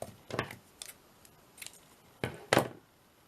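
Scissors snip paper for belly bands in several short, crisp cuts spaced irregularly, close and fairly quiet, the last two snips the strongest.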